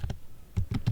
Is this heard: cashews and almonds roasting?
no